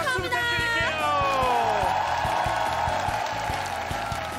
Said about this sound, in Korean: 여러분 축하합니다. 박수 부탁드릴게요.